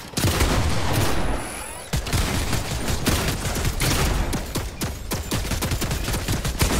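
Rapid bursts of gunfire from the video game Fortnite, loud and dense, with repeated sharp shots fired in quick succession and a brief lull early on before the shooting resumes steadily.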